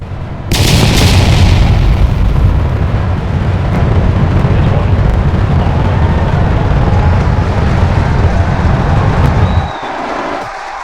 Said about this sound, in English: You heard the sonic booms.